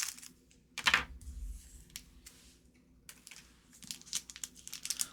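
An Upper Deck Marvel Annual 2022-23 trading card pack is cut and torn open: a sharp crinkling rip, then scattered crisp foil crackles and snips, close and fairly quiet, with no talk.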